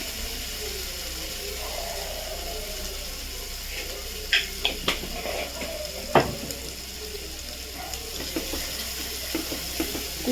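Kabuli chana cooked with mutton fat sautéing in a pan, a low continuous sizzle broken by a few sharp metallic scrapes and clinks of a spoon against the pan, close and without talk.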